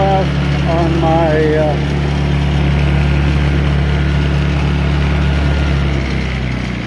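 A Honda EU2000 portable generator idles steadily through its break-in run, a loud, even engine hum with strong low tones, and someone speaks briefly over it at the start.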